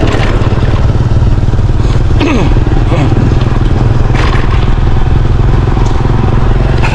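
An older motorcycle engine chugs loudly and close while riding through flood water, a constant throbbing drone with splashing and clattering over it and voices talking nearby.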